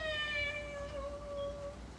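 A single drawn-out cat meow, clear and tonal, rises and then holds for well over a second during a children's yoga session, with quiet room noise behind it.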